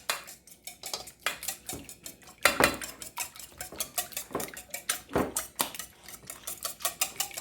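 Quiche filling with peas is mixed in a bowl, producing a quick rhythmic run of utensil clinks and knocks against the bowl, close and fairly crisp.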